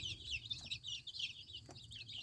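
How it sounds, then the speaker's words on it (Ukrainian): Young chickens on a village farm in western Ukraine peep and cheep continuously in high chirps, close by, over a low background rumble. "є оці курчата"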